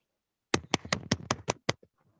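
Eight sharp hand claps in an even, fairly quick rhythm from one nearby person, followed by a couple of faint taps, with no talking over them.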